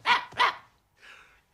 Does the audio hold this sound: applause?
no